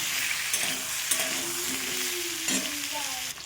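Potatoes are sautéed and stirred in a pan for a Bengali dish, producing a steady, close hissing sizzle with a few soft spatula scrapes and faint tonal hums beneath.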